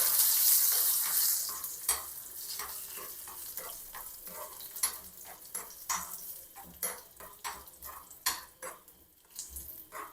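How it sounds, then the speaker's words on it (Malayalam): Raisins and cashews roast in ghee in a pan, a soft sizzle under repeated spoon scrapes and metallic taps against the vessel, louder at the start and then coming in short bursts. "ഇച്ചിരി നെയ്യൊക്കെ ഇട്ട് നന്നായിട്ട് കിസ്മിസും അണ്ടിപ്പരിപ്പും ഒന്ന് നല്ല ബ്രൗണിഷ് കളറാവുന്ന വരെ ഒന്ന് റോസ്റ്റ് ചെയ്ത് സെറ്റാക്കി എടുക്കാം"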